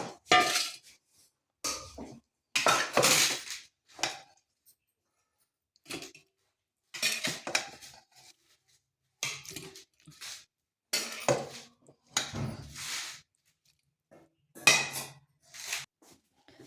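Metal utensils clink and scrape against a bowl and pan while cooked cauliflower-stalk sabzi is served, in a series of short, close, separate bursts with quiet gaps between and no talking.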